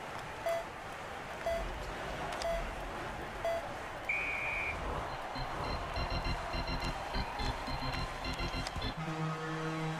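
A period-ending buzzer sounds in the hockey video game Tape to Tape. A loud, harsh, sustained tone cuts in near the end, after a stretch of busy game noise and a few brief higher beeps.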